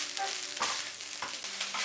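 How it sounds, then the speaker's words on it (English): A spatula stirs and scrapes vegetable fried rice around a hot pan, producing a few close scraping strokes over a low, steady sizzle. "Keep mixing it nicely until you see even colors with all the rice."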